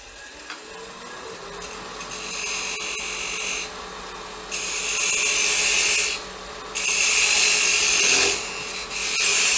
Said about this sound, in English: And we can cut the outside ring off.